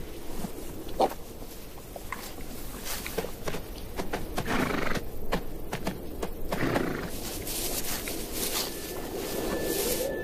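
Horses snort and whinny amid scattered hoof thuds and shuffling in a dry African desert, fairly faint and outdoors, with a thin sustained tone near the end.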